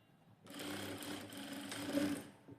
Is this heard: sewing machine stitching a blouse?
yes